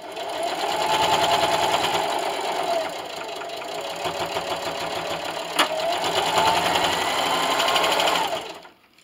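A sewing machine stitches through a polyester batting chair pad, reversing over a strap, with a steady close mechanical whir and a rapid needle rhythm that pauses briefly midway, then runs on before stopping.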